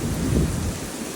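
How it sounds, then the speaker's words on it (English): Thunder rumbles deeply in a strong thunderstorm with heavy rain and wind gusts, a brief loud low roll over a steady rain hiss, with no talking. "this storm is quite strong"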